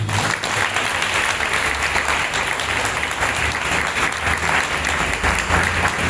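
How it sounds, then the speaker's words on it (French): A church congregation breaks into sustained, loud applause to acclaim Jesus, a dense even clapping that fills the room throughout. "On peut acclamer Jésus."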